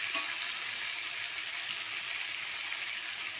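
Chicken pieces fry with onions in a pan for a Bengali chicken curry, giving an even, continuous sizzle with a faint clink of a spoon near the start.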